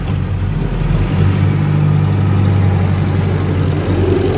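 A Valmet 88 tractor engine in Farming Simulator 22 drones in a loud, steady low hum, with its pitch rising slightly as it pulls along a country farm property.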